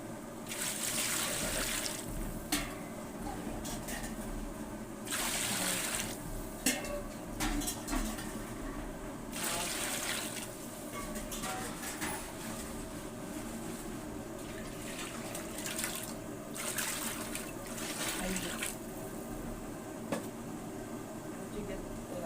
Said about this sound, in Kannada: 5 ಚೊಂಬು ನೀರು ಹಾಕ್ತೀನಿ.